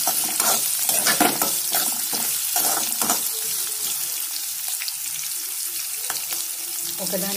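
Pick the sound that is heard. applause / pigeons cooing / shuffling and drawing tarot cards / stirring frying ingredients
stirring frying ingredients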